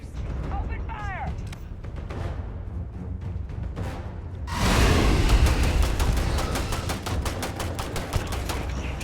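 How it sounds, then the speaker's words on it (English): A grenade blast in the sci-fi shooter game Starfield, a heavy boom cutting in midway and followed by a rapid burst of loud gunfire shots over a dense rumbling background. "Ah, I accidentally threw a fucking grenade."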